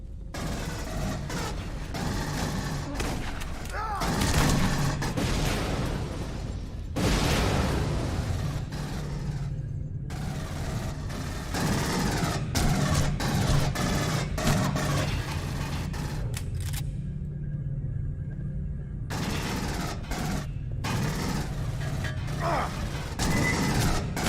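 Gunfire from the video game Aliens: Colonial Marines, dense bursts of shots and mechanical clatter layered with game effects across most of the stretch, with brief lulls between volleys.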